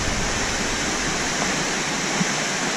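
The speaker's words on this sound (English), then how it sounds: "listening to the dulcet tones of the waterfall." Middleham Falls in the Dominica rainforest pours in a dense, continuous rush of falling water, close and steady with no voices.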